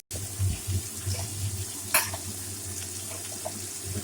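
Water goes into a pan of fried spice masala, hissing and sizzling steadily at moderate volume, with a few faint clinks over the bubbling.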